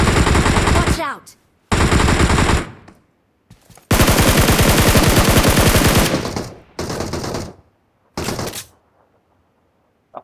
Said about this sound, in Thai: เมื่อกี้ตรงนี้มันยิงกันเดือดเลยนะ